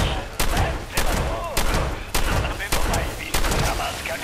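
Gunfire in the Fallout 76 game comes as a series of sharp, loud shots spaced roughly half a second apart, each with a quick decay, while a voice talks between them.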